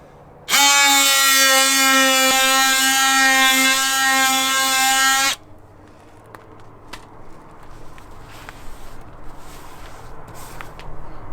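A cordless power tool working on dented body panels of an RV during a repair. It gives a loud, steady motor whine for about five seconds, then stops, leaving faint handling clicks and rustling.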